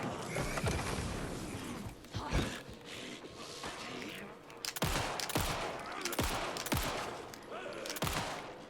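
Gunshots in the Alan Wake 2 survival-horror game: several sharp, loud shots spaced irregularly over mechanical clicks and creaks, a couple landing close together near the end.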